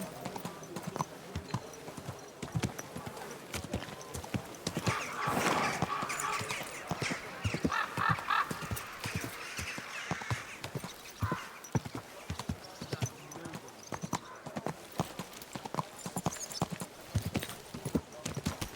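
Rhythmic hoofbeats clop steadily and close, a horse trotting on hard ground in the video game Kingdom Come: Deliverance II, with occasional snorts or a whinny mixed in, lasting throughout.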